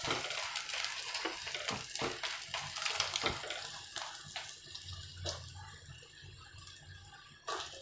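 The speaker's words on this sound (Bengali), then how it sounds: "লাল করে একটু ভেজে নেবেন এটাকে।" A shrimp paratha sizzles steadily in a pan with a continuous, close hiss and faint crackle throughout, at a quiet level with no clear pauses.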